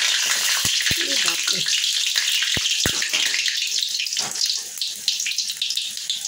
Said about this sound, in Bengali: লঙ্কাটা আমি হালকা করে ভেজে নিয়ে